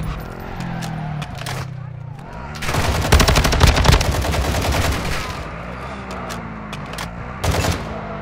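Rapid automatic gunfire in a first-person shooter video game, loud bursts of shots rattling in dense clusters over several seconds, with a player's voice talking in between.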